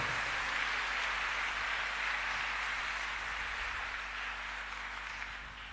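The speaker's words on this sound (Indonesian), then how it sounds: "kita minta tepuk tangan lagi buat narasumber dan semuanya saja." Audience applause for a speaker at an Islamic religious lecture, a steady broadband patter of many hands clapping at even loudness that tapers slightly toward the end, with no talk over it.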